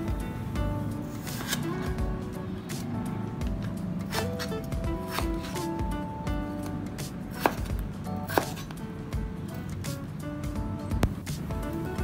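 A knife chops raw chicken into bite-sized or slightly larger pieces for a Thai-style chicken curry, with sharp, irregular blade strikes on a cutting board repeating close up throughout.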